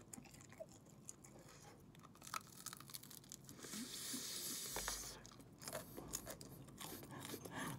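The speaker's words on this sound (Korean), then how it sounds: "너무 바삭바삭해서 씹어 먹을 수가 없어요." Goobne Gochu Basasak fried chicken crunched and chewed up close, with steady crisp bites and tearing of the crackly coating continuing loudly for several seconds.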